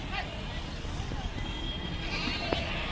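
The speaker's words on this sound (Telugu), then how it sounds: "ఫ్రెండ్స్ మరి గొర్రెలు అయితే చాలానే వచ్చాయి మార్కెట్ ఏ విధంగా ఉంది చూడండి" Sheep bleat in a busy livestock market in Pebbair, a couple of brief calls poking out over a dense, constant wash of crowd murmur and market noise, with no clear speech.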